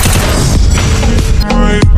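Gunfire in the Free Fire battle royale game, a shotgun blast and an MP submachine gun finishing with a headshot, sounding as loud, dense bursts of shots and booms over busy game noise, with a couple of sharp cracks near the end.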